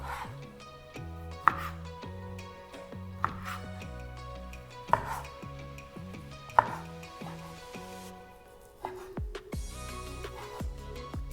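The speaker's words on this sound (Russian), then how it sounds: "начинаем с нарезания грудинки" Steady rhythmic knife chopping of pork belly on a cutting board, sharp repeated thunks at a moderate pace, close up, with light music underneath and no speech.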